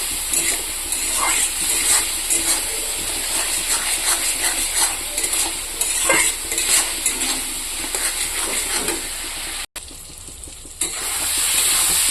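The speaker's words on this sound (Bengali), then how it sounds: "এটা দিয়ে আরও কিছুক্ষণ কষাবো" Fried potatoes and a half-cooked tomato masala are sautéed and stirred in a pan, giving a steady close sizzle with a spoon scraping and clinking against the metal, and a brief dip near the end.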